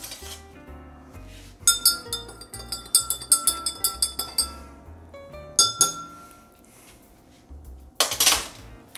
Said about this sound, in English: We'll stir that up a little bit.